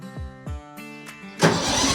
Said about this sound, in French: on monte le régime moteur